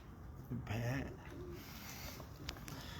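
A pigeon on a rooftop gives a short, low coo against a faint background hiss, followed by a couple of soft clicks.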